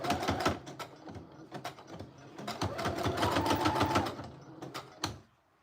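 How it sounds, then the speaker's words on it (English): A sewing machine stitches through layered paper of a handmade junk journal, a close, fast rhythmic clatter running in bursts with short pauses before stopping. "And now I'm just gonna sew this on."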